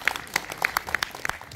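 Audience applause at a Miryang Park clan festival celebration concert, a brief scattered patter of hand claps at moderate distance with no talk over it.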